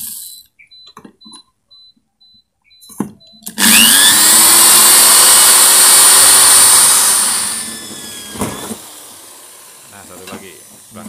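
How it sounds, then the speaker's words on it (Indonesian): An electric drill bores into lightweight steel, whining up sharply after a few seconds of faint sounds, grinding loudly and steadily for about four seconds before winding down, followed by small knocks. "Jadi saya bor dulu Pak ya. Ini dibor."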